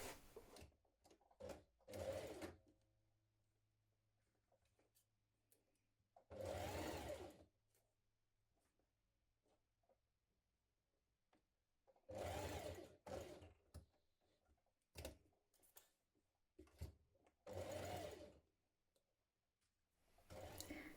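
A sewing machine runs in several short bursts while stitching around the neckline facing of a kaftan dress, each spell of whirring separated by quiet pauses and faint handling clicks.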